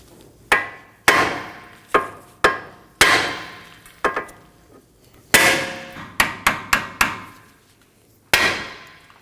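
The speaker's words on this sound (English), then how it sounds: "I'm going to strike this part of the knuckle with a hammer." Eleven sharp metallic hammer blows on a Nissan Maxima steering knuckle, close and loud, struck at irregular intervals with short ringing decays and brief pauses between bursts.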